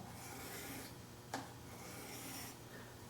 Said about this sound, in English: the main thing in sharpening a knife is to take your time and don't get in a hurry